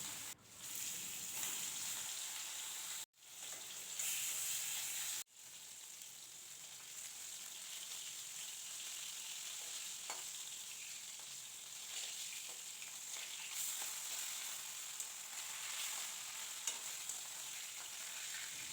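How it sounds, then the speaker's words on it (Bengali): Pieces of rohu fish rubbed with salt and turmeric fry in refined oil with a continuous bright sizzle lasting many seconds, broken by brief pauses and occasional crackles and pops. "এবার মাছটাকে নুন হলুদ মাখিয়ে আমি হালকা লালচে করে ভাজা করে নেব"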